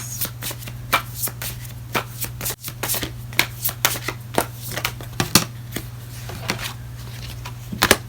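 Oracle cards are shuffled by hand close up, a rapid series of crisp papery riffles and taps over a low steady hum, with a short break partway through.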